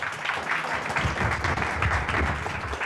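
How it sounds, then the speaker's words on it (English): An audience gives a speaker a round of applause at a product talk, many hands clapping in a thick, continuous patter at moderate loudness, with no speech over it. "big round of applause"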